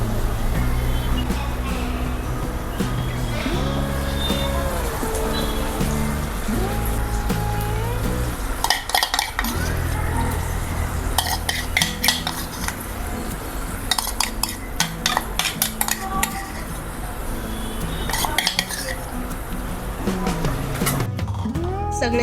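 Marinated mushrooms are stirred in a pan with a spoon, giving repeated scraping and clinking strokes over a faint sizzle, with a few louder knocks toward the end.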